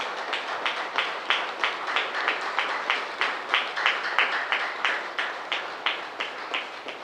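A crowd at a Pyramid Party success meeting claps together in a steady, unison rhythm of roughly three beats per second. The sound is loud and sustained for several seconds, with no talking over it.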